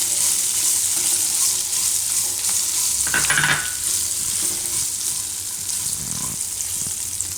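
Green chilies stirred and fried in oil for Gujarati methiya marcha, a constant close sizzle with a brief louder scrape of stirring midway.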